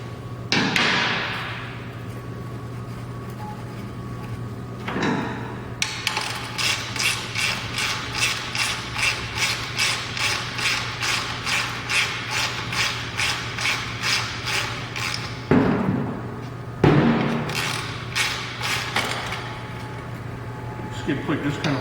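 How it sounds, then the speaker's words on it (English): Ratchet wrench backing out a 10 mm skid plate bolt on a 2009 Yamaha TW200 motorcycle, a close, steady run of rapid metallic clicks in repeated strokes between brief pauses, with other handling noises. "That's a 10 millimeter bolt right here. We'll get this off and out of the way."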